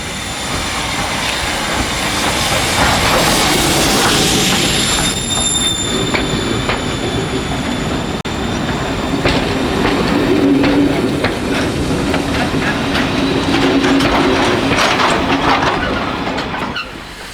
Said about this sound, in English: Billington designed Class E 4062 tank locomotive number 32473 runs into platforms 4 and 5 heading for Sheffield Park.